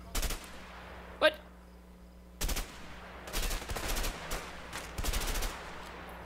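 Gunfire in the video game A Way Out during a Mexican shootout: several separate bursts of rapid shots, fairly close, with quieter gaps between them and a brief sharp sound early on.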